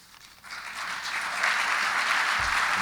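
Applause at a governors' summer meeting starts softly and swells within a second into a full, steady round of clapping from a large audience that stays strong to the end.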